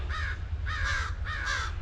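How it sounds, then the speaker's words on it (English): Crows caw in a backyard, three loud, harsh calls evenly spaced a little over half a second apart, close by, over a low steady background hum. "Boy, listen to these crows."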